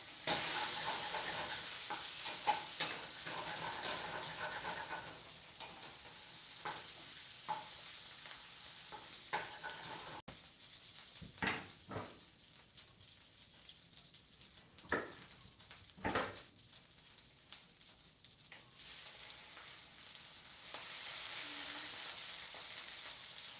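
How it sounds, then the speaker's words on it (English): Food sizzling in a pan while it is stirred and scraped off the bottom, with a steady frying hiss broken by several sharp scraping strokes toward the middle, close and fairly quiet. "Let's get all that up off that bottom of that pan."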